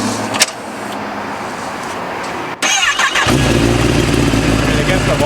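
A 2023 Kawasaki ZX10-R sport bike fires up nearby, a brief starter whir before the engine catches and settles into a loud, steady idle, with another bike idling close beside it.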